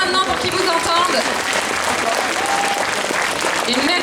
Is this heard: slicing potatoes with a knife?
no